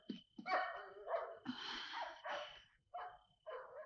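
A dog barks several times in a row, close and fairly quiet, with short gaps and a few whiny, snorting yips between barks.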